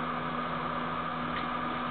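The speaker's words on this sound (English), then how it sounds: "That's pink noise." Pink noise plays through a live sound system's speakers, a dense, even hiss holding at steady loudness from start to finish with no talking.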